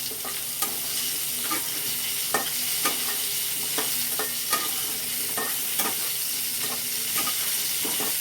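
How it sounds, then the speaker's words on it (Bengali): A small batch of potatoes fries with turmeric and salt, a constant sizzle punctuated by regular scraping strokes of a spatula stirring in the pan, with no voices. "আলুটাকে একটু নাড়াচাড়া করে নিচ্ছি হলুদ আর নুনের সাথে।"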